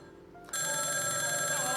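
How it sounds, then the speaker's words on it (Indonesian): A telephone rings on a live Indonesian morning radio-style call-in show, a steady electronic ring starting abruptly and continuing loud and unbroken, with no talk over it. "Sudah ada telepon nih."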